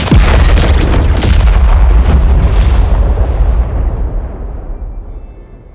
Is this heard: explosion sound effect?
yes